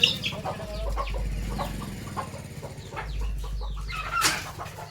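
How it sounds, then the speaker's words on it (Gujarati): Domestic hens cluck repeatedly at close range in a village home yard, with soft chirps and a wing flutter near the end, and light household noise behind. "देखो मर्गियों बाजे है"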